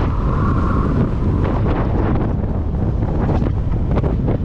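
Strong wind buffets the microphone on a fast motorbike ride along a touring road, a loud, continuous rumbling roar with gusty surges and no voices.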